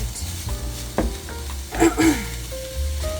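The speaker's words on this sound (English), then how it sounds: "So we're going to saute this until our onions become translucent or somewhat soft before we transfer." Onions sauteing in a stock pot give off a soft sizzle, broken by a few brief clinks and stirring scrapes close by, moderate in level with no talking.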